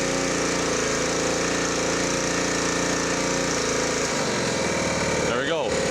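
A Honda GX140 gas engine on a Jenny air compressor runs loud and close with a steady harsh drone, then drops sharply in pitch and throttles down toward idle near the end.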